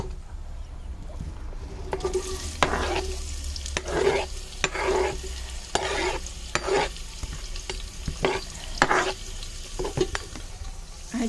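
Chopped onion sizzles with whole spices for mutton cooked over a wood-fired chulha, a steady frying hiss broken by repeated scraping stirs of a spoon against the pan, close and fairly loud with no talking.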